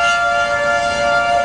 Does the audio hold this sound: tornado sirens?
yes